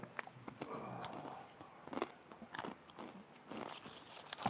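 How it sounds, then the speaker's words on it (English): Someone chews food close to the microphone, making soft, irregular crunching and biting sounds that come in quiet bursts with short pauses, with no speech. "Pardon my chewing."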